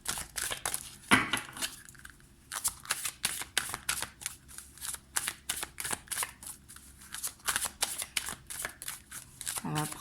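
Tarot cards shuffled and handled in a steady run of crisp riffling bursts over about ten seconds, close and fairly loud, with someone speaking French quietly over much of it.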